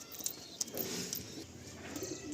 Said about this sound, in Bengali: এটাই আমার লাস্ট পায়রা